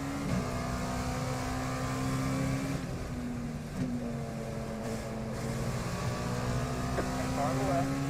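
A simulated race car engine hums steadily in the iRacing video game during a six-hour race at Watkins Glen, with a brief dip in revs partway through, then a constant drone, no one speaking.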